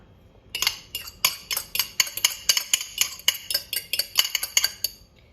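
Egg and cheese mixture tossed through spaghetti carbonara in a pan off the heat: a steady run of sharp utensil clinks and scrapes against metal, close and rhythmic, a few per second.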